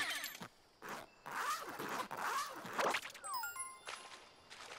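A zipper being unzipped in the Super Mario Odyssey video game, heard as a few sweeping rasps with chiming tones and a rising glide.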